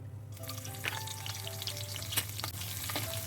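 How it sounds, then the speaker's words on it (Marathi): Garlic with chili powder and salt sizzles in hot oil as a tempering for karela fry, a close, steady crackling hiss with occasional sharp spatters and stirring clicks, no talking. "फोडणीसाठी तेल टाकायचं, तिखट मिठाची आणि लसणाची फोडणी द्यायची"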